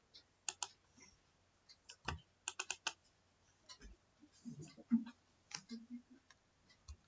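A program being typed on a computer keyboard, with irregular clusters of sharp key clicks, some quick bursts and some isolated taps, close and fairly quiet, with a few low thuds and faint murmurs between keystrokes.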